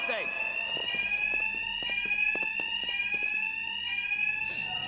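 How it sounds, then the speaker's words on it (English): A bank alarm rings in Batman: Arkham Knight, a continuous high electronic tone with a rapid metallic clatter. Someone talks over it. "These thugs can't hear a thing over the alarms."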